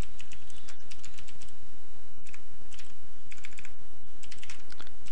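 Steady, fast typing on a computer keyboard at a Windows PC, loud and close, dense key clatter with a few brief pauses and no talking.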